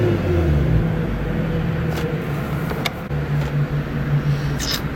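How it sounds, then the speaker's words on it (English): A BMW 135i engine idles with a low, rough rumble close by, with a couple of brief throttle blips that swell and fall back, no talk heard. "So we're just gonna let it run. Give it the occasional throttle blip until it starts making the noises."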